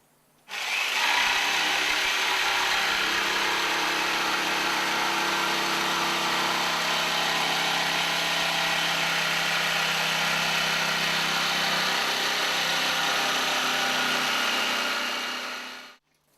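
A jigsaw with its pendulum action set to minimum cuts through wood for a miniature train, making one continuous, loud, steady buzzing whine for about fifteen seconds that starts and stops cleanly, with no voices.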